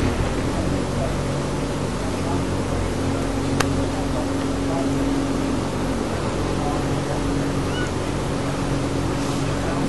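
Tour boat out on a lake in the Lake District, heard from on board as a continuous engine drone and rushing water with wind noise, steady and fairly loud.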